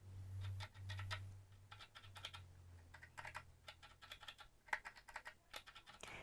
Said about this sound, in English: They are mechanical keys, and they're meant to look like a typewriter.